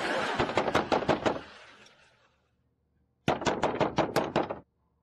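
Knocking on a door in a comedy household scene: two bursts of rapid, loud raps, about nine hard knocks, then a second of silence and another run of about seven.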